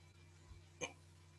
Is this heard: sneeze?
yes